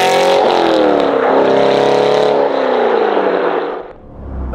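Aston Martin Vantage GT8 engine, loud and close, revving up with rising and falling harmonic pitch as it accelerates and shifts, then dropping away near the end.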